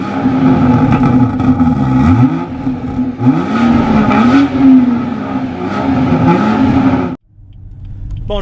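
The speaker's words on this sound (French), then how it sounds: "le moteur sonne très bien" A 2018 BMW 440i xDrive coupe engine accelerating loudly and close, its tone rising and dropping through repeated gear changes before cutting off to a low idle.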